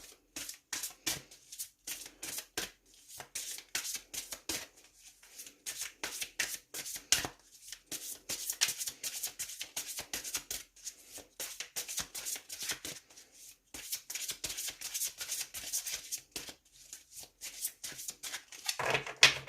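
Tarot deck being shuffled and cut by hand, a long run of rapid, crisp card riffles and flutters in bursts with brief pauses between them, close and fairly loud, with no talking.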